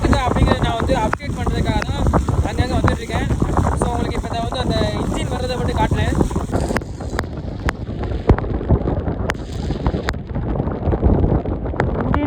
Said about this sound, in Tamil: காற்று பாருங்க அதாவது காற்றின் வேகம் அதிகமாக இருக்குது அந்த இடத்துல